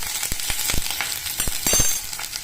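Vegetables sautéing in a hot pan, a close crackling sizzle broken by scattered sharp pops and light clinks of stirring.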